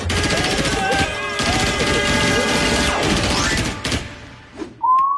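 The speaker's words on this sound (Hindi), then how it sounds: "मेजर साहब का मोबाइल चला रहा है गोलियां गुरु" Rapid bursts of gunfire played from a mobile phone, with whistling ricochets crackling steadily, then breaking off into short fragments and a high tone.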